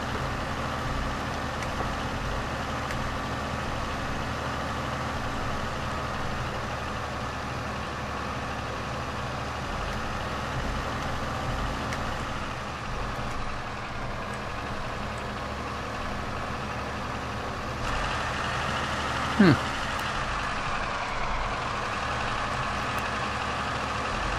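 Tractor engine idling in Farming Simulator 15, a steady low drone with a faint hum running throughout, one short sharp clunk near the end.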